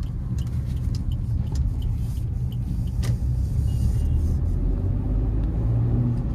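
Maruti Suzuki WagonR LXi CNG BS6 car turning through a slow U-turn, a low engine rumble heard from inside the cabin with soft ticks and clicks and no talk.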